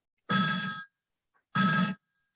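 An office telephone gives two long electronic rings separated by a pause, loud and close, with no talk over them.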